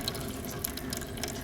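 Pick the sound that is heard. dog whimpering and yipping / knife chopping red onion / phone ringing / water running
water running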